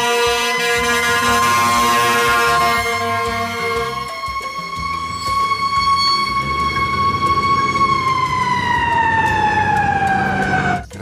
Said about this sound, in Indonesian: Ini ada mobil damkar teman-teman. Ada fire truck teman-teman.